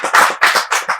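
Claps ring out loud and close to welcome three poets at a poetry gathering, a short run of sharp, distinct hand claps in uneven rhythm.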